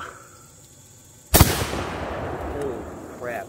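A Saiga 12 shotgun fires a single magnum shell, one sharp, loud blast that rings out and decays over about two seconds, followed by a brief faint clink.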